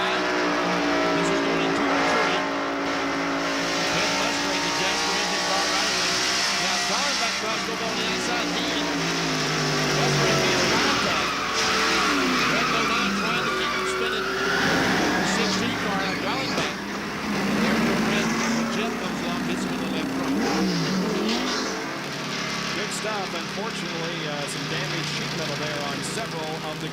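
NASCAR stock cars roar around Bristol International Raceway in 1993, heard from an in-car camera as a loud, continuous engine drone with shifting pitch and passing cars, while a commentator talks over it throughout.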